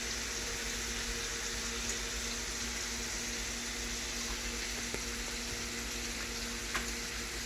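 Pork chops searing in a pan produce a continuous, even sizzle and crackle, heard up close on its own with no voices.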